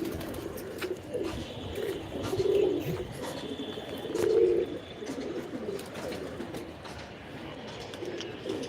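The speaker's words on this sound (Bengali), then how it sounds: "এইখানে একজোড়া আমার পছন্দের কবুতর আছে একদম সাদা ফ্রেশ" A pair of pure white pigeons coo in low, repeated throaty calls, close by, over a constant background hum with scattered chirps and faint clicks.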